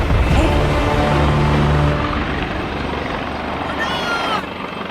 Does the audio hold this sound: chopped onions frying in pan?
no